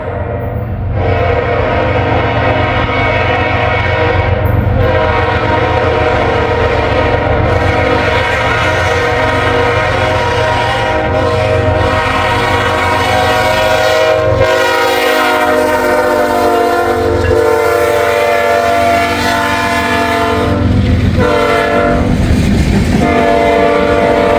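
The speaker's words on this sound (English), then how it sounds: "Here comes that train. It is a transfer, and he is running long hood forward." A transfer freight train, its locomotive running long hood forward, rumbles through a grade crossing, sustaining loud, sounding its horn in long, powerful blasts over the heavy roll of the cars.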